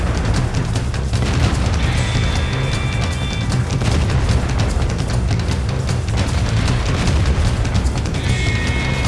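Tank cannon fire and explosions in the World of Tanks video game, a T-29 in a battle on a hill, with loud continuous booming and rumbling blasts layered over a dense battle din.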